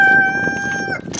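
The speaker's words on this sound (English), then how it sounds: "But right now the chickens want to come out." Chickens let out a short, loud, tonal call up close, with softer clucking sounds mixed in for about a second.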